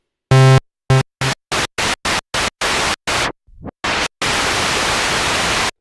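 White noise from the noise generator of a Moog Mother-32 synthesizer, starting as a run of short, sharp bursts with a few brief tonal blips, then settling into a steady, loud, continuous hiss.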